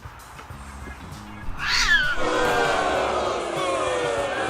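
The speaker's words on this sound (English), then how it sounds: "Oh, hello, cat." A house cat meows near a workbench, first quiet background sounds, then one loud, drawn-out rising meow that carries into a long wavering yowl up close.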